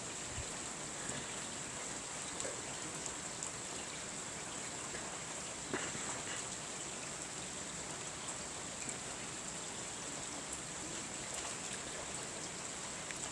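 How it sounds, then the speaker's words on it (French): Rain falls steadily during a thunderstorm, a continuous even hiss of drops with occasional louder patters, heard at a moderate distance with no talking. "La pluie qui tombe là, il est archi joli"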